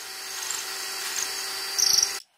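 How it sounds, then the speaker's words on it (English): A small drill with a 1/64 bit whines steadily while boring a depth-marked hole into a turned wooden shoehorn handle, close and continuous, then cuts off abruptly. "Then I switched to the 1/64 drill with some tape to mark the depth."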